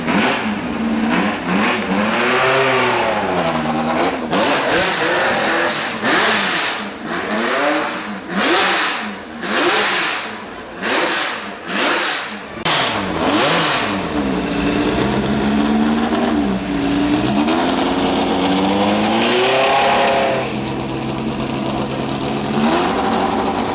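High-revving 2-litre V8 car engine, loud and close, climbing through repeated sharp rev blips and long sweeping wails toward a very high redline, then settling into a steadier drone before another rising run.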